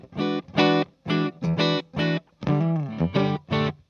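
Electric guitar played clean through a Fender Blues Deluxe valve amp with no reverb, a run of bright sustained chords and notes in short phrases, close and alone with no talking.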